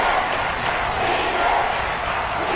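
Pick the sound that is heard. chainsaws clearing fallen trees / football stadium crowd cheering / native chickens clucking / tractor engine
football stadium crowd cheering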